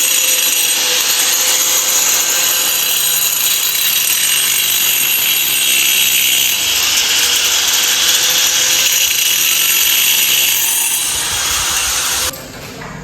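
A power saw cuts wood for panel work, running as a loud, continuous high whine that stays steady for several seconds before cutting off near the end.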